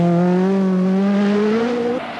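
Toivonen's Peugeot rally car at the 1985 1000 Lakes Rally, engine howling loudly and steadily with pitch slowly rising as it accelerates, then a sharp drop at a gear change near the end.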